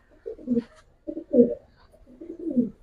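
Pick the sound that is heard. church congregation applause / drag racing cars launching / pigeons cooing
pigeons cooing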